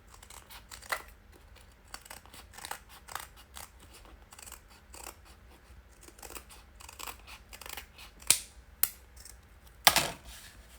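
Scissors trimming a page of a green writing journal, with a series of quiet snips and paper rustles, ending in a couple of sharper, louder cuts.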